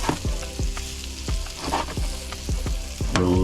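Trout fillet lightly blackening in a saucepan, a dense close sizzle with repeated soft low thumps and a few brief scrapes, steady and fairly loud, no voices.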